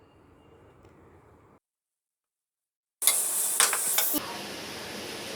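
Vegetables for vegetable fried rice are stirred in a hot pan, giving loud, close sizzling with scraping strokes after a brief quiet gap and a faint earlier hum.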